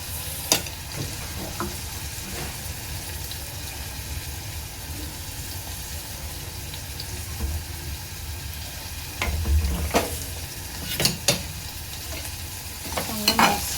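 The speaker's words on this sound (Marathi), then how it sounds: "कांदा चांगला लाल होईपर्यंत शिजवून घ्यायचा आहे।" Chopped onions, salted, fry in a pan until browned, with a steady close sizzle broken by a few louder scraping stirs near the end and no talking.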